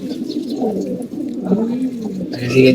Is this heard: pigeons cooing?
yes